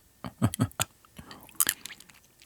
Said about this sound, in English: I might just need to make some crunchy sounds right next to you